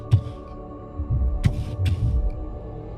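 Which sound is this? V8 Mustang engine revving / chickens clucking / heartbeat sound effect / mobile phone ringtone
heartbeat sound effect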